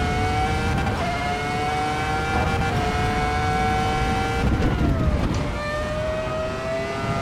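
A Ferrari F2004 Formula 1 engine screaming at high revs in the Assetto Corsa EVO racing game on the Nordschleife, loud and continuous, with pitch drops at quick upshifts and downshifts.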